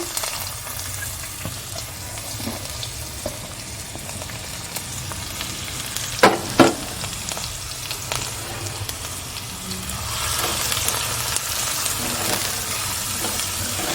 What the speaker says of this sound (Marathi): कांदा छान लालसर होईपर्यंत परतून घ्यायचा आहे